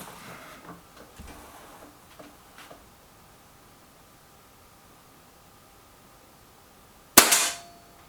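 A Trimex Arms Elf S air gun fires one sharp, loud crack with a short tail near the end, after several seconds of near silence with faint handling clicks.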